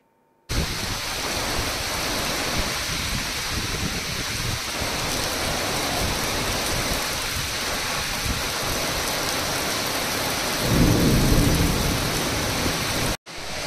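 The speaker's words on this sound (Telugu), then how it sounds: "భారీ వర్షాల కారణంగా ఏపీ తీర ప్రాంతంతో పాటు దక్షిణ కోస్తా జిల్లాలతో పాటు తమిళనాడు అంతటా కూడా భారీ వర్షాలు కురుస్తున్నాయి" Heavy monsoon rain pours down in flooded Chennai, a dense, loud, unbroken hiss with a low rumble of thunder swelling briefly near the end.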